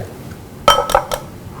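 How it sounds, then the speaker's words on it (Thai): Two eggs cracked against a bowl: a few quick sharp taps and clinks, three close hits in about half a second, then quiet. "ตอกไข่ลงไป2ฟอง"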